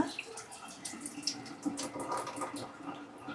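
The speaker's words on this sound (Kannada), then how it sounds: "ಬಿರಿಯಾನಿ ಸೋಯಾ ಇದನ್ನು ಸ್ಟ್ರೈನರ್ಗೆ ಹಾಕ್ಕೊಳ್ಳೋಣ" Quiet splashing and trickling as water and soaked soya chunks are poured into a strainer and drain through.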